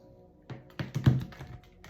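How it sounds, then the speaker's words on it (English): A deck of tarot cards being shuffled by hand, giving a few soft, quick riffling taps and flicks close by over a quiet background, with no talking. "we're going to go ahead and shuffle this deck"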